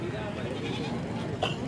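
A goat bleats at a busy livestock market, one short wavering cry near the end rising over a steady murmur of people talking nearby.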